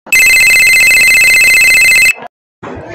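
A telephone rings with a loud, bright electronic trill for about two seconds, then cuts off, followed after a short silence by a voice speaking.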